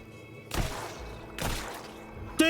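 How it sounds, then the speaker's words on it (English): Wet, gooey enemy explosions in the action roguelite game Hell Clock, two soft bursting thumps about a second apart, followed by a sharper hit at the end. "That is some gooey explosions right there."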